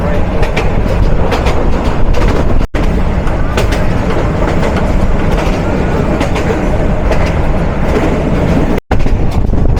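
A commuter train runs on the line to Dewanganj in Jamalpur, Bangladesh, heard from on board as a loud, steady rumble with rhythmic clickety-clack of wheels over rail joints throughout.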